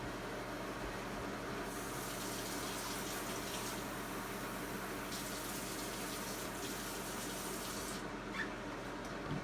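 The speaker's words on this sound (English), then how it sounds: "My salt is already in the jar, and we're going to put some water in here." Water pours steadily into a canning jar packed with raw chicken and salt, a continuous faint gushing flow that runs without a break for nearly ten seconds.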